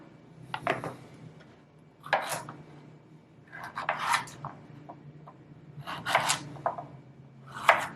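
A knife cuts vegetable scraps into snack pieces during meal prep, in clusters of scraping, chopping strokes on a board, close up, with quiet gaps between the groups.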